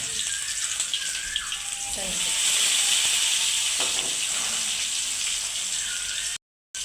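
Cumin seeds, curry leaves and a little onion go into hot oil, giving a loud, broad, steady sizzling hiss close by, with a few faint knocks underneath.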